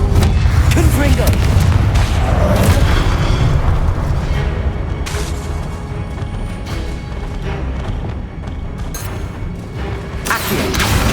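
Heavy booming blasts from the Confringo spell in Hogwarts Legacy roll out in a loud, dense wash of explosions and rumble that stays continuous through the clip, with a voice speaking over the din.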